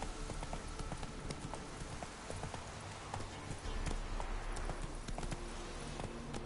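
The horse Roach galloping in The Witcher 3, rapid hoof clip-clops, fairly faint over a rumbling background, continuous throughout with no talk.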